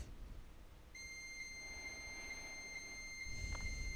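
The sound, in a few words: dial-up modem answering and handshaking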